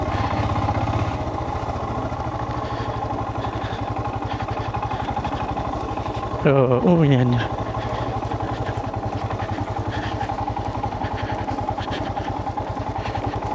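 A motorcycle engine idles close by with a steady low, throbbing putter that runs evenly throughout, and a short rising burst of revving in the middle; a voice speaks briefly.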